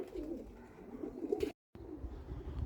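Soft, low pigeon coos repeat in a gentle rhythm close by, with a brief moment of silence partway through.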